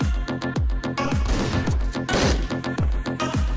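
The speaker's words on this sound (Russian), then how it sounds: "Два выстрела." A rapid series of sharp, booming gunshots in Hotline Miami 2: Wrong Number, about a dozen in quick succession with short echoing tails.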